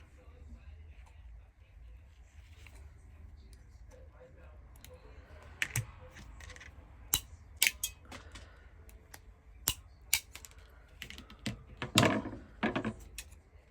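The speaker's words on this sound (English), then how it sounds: "Just take some heavy duty scissors and just cut that off." Sharp snipping clicks of heavy scissors cutting through plastic, irregular and close, growing more frequent toward the end over quiet background.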